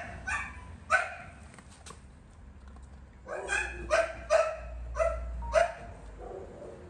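Black Belgian Malinois barking nearby, a couple of sharp barks early, then a quick run of five or six loud, close barks in uneven rhythm, with faint background noise and no talk.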